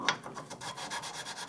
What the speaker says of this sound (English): Just working all the splines in.